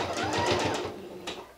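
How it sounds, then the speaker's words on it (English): A sewing machine stitches quilt binding in a short, quiet burst of rapid rhythmic pulses that then slows and fades. "I'm just going to come back and sew over that"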